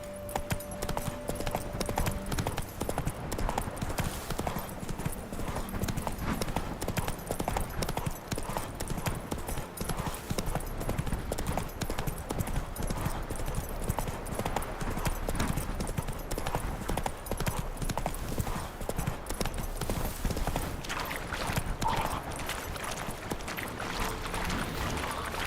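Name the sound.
horse Roach trotting, from video game The Witcher 3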